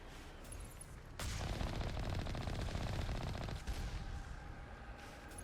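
A turret in the video game Mass Effect fires a sustained burst of rapid automatic gunfire lasting a couple of seconds, loud and dense, between quieter stretches of game ambience.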